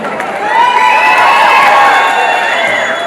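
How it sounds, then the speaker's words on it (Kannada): A crowd at a film pre-release event cheers and claps loudly and steadily, a dense wash of voices and applause with no pauses. "ಒಂದ್ಸಲ ಜೋರಕ್ಕೆ ಚಪ್ಪಾಳೆ"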